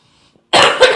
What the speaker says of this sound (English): I'm going to cough for a moment.